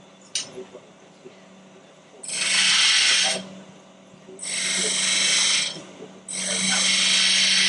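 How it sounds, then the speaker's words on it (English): A 9/16 spindle gouge cuts wood on a lathe in three long, loud bursts of hissing shear, separated by quieter pauses with the machine's low hum underneath. "This is a spindle gouge, 9/16 spindle gouge."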